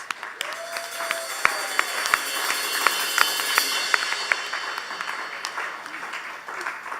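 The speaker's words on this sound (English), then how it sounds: "Let's have a round of applause for our audience tonight." A small live-music venue audience gives a round of applause, scattered moderately loud claps with a few sharp individual hits, thinning out toward the end.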